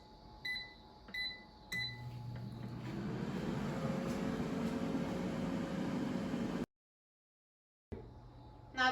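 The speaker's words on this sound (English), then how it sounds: "Now the air fryer is done cooking" An air fryer cooking frozen French toast sticks at 400°F starts with a few electronic beeps, then runs with a steady fan whir and hum, cuts out abruptly, and beeps again.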